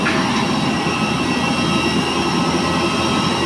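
A Garuda airliner's jet engine roars at Minangkabau airport, a loud, steady, broadband drone that stays constant and close with no voices over it.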